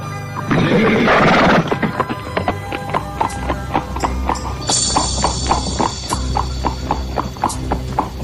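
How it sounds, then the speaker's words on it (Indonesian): Horses galloping in a radio drama sound effect, a loud rush at first giving way to rhythmic clip-clop hoofbeats with a horse's whinny partway through, close and continuous. "Di dalam hutan Mojo, Jaka Badak dan Dewi Astini mengurangi lari kudanya."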